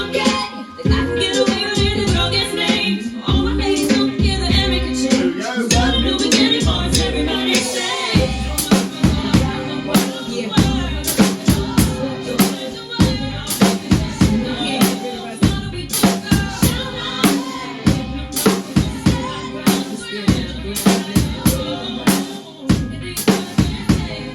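Drum groove from a song, a steady, punchy kit beat with sharp repeated hits over fuller music, loud and continuous with no talking.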